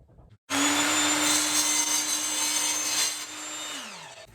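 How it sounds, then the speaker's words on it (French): A power saw roughly cuts a board for a cutting jig for base-plate machines: an abrupt loud, steady whine starting after a brief quiet, holding high and even, then slowing and dropping in pitch as the blade winds down. "vous allez donc découper ici grossièrement la plaque"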